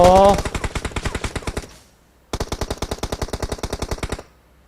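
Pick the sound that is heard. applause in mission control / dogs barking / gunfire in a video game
gunfire in a video game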